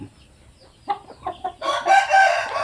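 A rooster of the Basilan chicken breed gives a single loud, close cock-a-doodle-doo that rises into a strained, sustained crow, after a few soft clucks.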